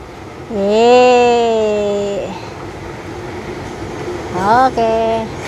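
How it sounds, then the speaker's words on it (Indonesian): A train passing beside a river and slowing down, with a long drawn horn blast followed by shorter horn notes later, over a steady rolling rumble, fairly loud and close. "Oh, keretanya jalannya melambat nih."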